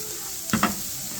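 Onions sizzling in oil in a home kitchen pan, a steady faint frying hiss with a couple of brief stirring scrapes near the middle; no talking.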